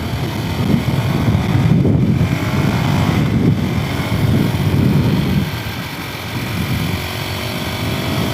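A Sherco 500 SM Factory supermoto runs on a kart track, its engine a steady loud drone with strong wind buffeting over the microphone, easing slightly toward the end.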